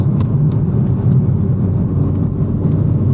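A Renault Megane RS 300 is driven at speed, its engine and road noise making a steady, loud low rumble that persists without a break, with no talk over it.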